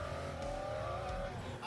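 A car engine revs briefly, a fairly quiet rising and falling drone over a low rumble.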